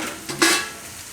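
Dudhi (bottle gourd) sabzi with red chilli, Kashmiri chilli and green coriander in a pan gives one short sizzling, stirring burst, near and fairly loud, fading quickly into quiet.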